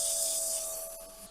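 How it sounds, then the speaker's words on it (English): Coarse 80 grit sandpaper rubbing steadily across a wood-turned wooden cup, a continuous gritty rasp close up, with no talking. "Start with the sanding with a nice, it's 80."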